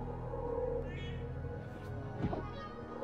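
Cats meowing in the video game Spiral Knights, a few synthetic meows over a continuous game soundscape, with no speech.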